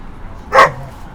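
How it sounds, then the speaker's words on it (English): A single short dog bark or yip sounds once, fairly loud and close, against a quiet background during a street encounter with a friendly puppy. "there's a dog that wants to say hello"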